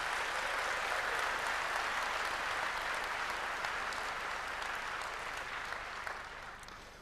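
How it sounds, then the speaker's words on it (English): A large audience applauding, dense sustained clapping that fills the hall evenly and then tapers off slightly at the end. "Give yourselves a round of applause."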